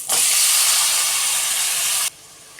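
Four chopped tomatoes dropped into a hot pan for a broad bean curry, setting off a loud, bright sizzling hiss that holds steady for about two seconds, then cuts to a quiet simmer.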